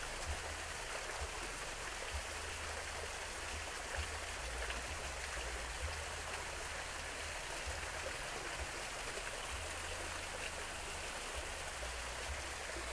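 A waterfall at sunset, heard as a steady, even rush of falling water with a constant low rumble, continuous and unchanging throughout, with no voices.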